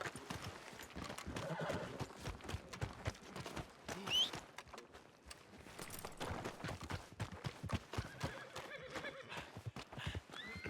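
Horse hooves in Red Dead Redemption 2 clip-clop on the ground in a steady walking rhythm, close by, with a brief whinny partway through and faint game ambience underneath.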